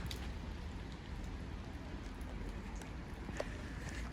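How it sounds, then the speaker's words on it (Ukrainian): Light rain, close to turning to snow, falls on a trip from Ivano-Frankivsk toward the Drahobrat mountains, making a faint, steady patter and hiss with one small knock near the end and no voices. "Трішки дощ, дощика."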